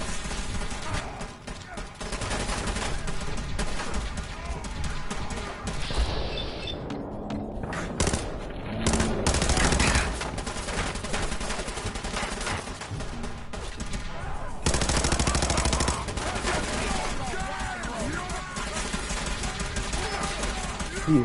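Gunfire from the video game Fallout 4 rattles through the scene in rapid bursts and repeated sharp shots, dense and loud, with a few heavier blasts and a player talking intermittently over the action.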